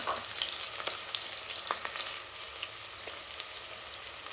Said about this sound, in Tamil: நான் வெங்காயம் வச்சா தான் போட்டிருக்கேன். இன்னும் கொஞ்சம் வதங்கி வரட்டும்.